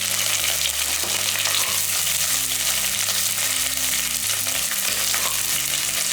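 Five garlic cloves, ginger, curry leaves and shallots fry in hot oil for a Chettinad mutton curry, making a loud, steady sizzle with no pause and no talking, over low, changing musical tones.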